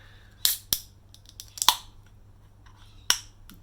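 A bottle or can of Bad Shepherd Double Choc Hazelnut Brown, a 7.2% beer, being cracked open, heard as a few sharp, close clicks and snaps spread over a few seconds.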